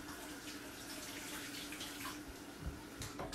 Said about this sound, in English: Let me wash my hands real quick as they're covered in egg juice.